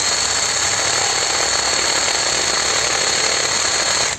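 A Geevorks cordless screwdriver drill runs steadily at low speed with torque set to 15, a loud continuous whirring buzz that holds level for about four seconds before cutting off, with no talking.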